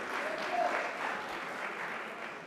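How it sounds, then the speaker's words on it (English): Applause at a civic association candidates night, a steady, moderately loud patter of many hands filling the room for the whole stretch, with faint voices mixed in. "A round of applause for Seamus"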